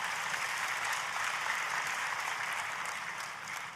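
Applause from a church congregation for the senior pastor, a steady, fairly distant wash of clapping that holds for a few seconds and tapers slightly at the end.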